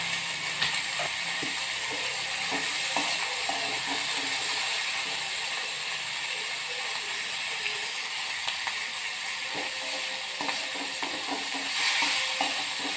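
Benguk bean (koro benguk) stew with palm sugar, bay leaves and galangal being stirred in a pot, with a steady sizzling wash and scattered scraping, clicking taps of the spoon running throughout.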